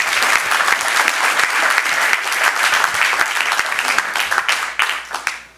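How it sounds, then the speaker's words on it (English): Sustained applause from the audience at a Burbank city council meeting honoring the evening's proclamations, a dense steady wash of many hands clapping that tapers off at the end. "one more round of applause for all our proclamations this evening."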